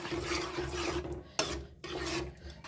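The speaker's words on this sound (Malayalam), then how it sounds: "തേങ്ങാപ്പാൽ നന്നായിട്ട് നമുക്കൊന്ന് ഇളക്കാം" A spoon stirs tapioca payasam with coconut milk in a pan, giving rough, rasping scrapes against the pan bottom in a repeated back-and-forth rhythm, close and fairly quiet with no speech.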